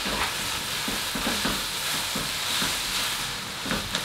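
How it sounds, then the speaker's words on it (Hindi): Grated carrots frying in ghee over a medium flame for carrot kheer give a steady, close hiss, with soft scraping taps from stirring scattered throughout. "घी में भून लिया"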